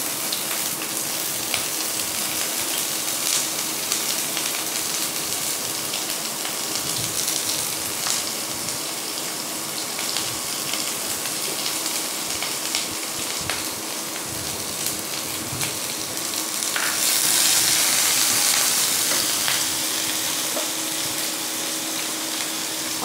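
Sliced onion frying in hot oil in a pan, a steady, dense sizzle that carries on throughout and briefly grows louder toward the end, with no talking.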